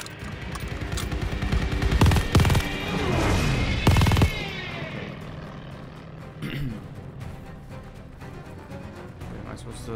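Turret gunfire in the video game Call of Duty Vanguard: dense bursts of automatic fire and explosions in the first four seconds, then quieter scattered shots and battle noise.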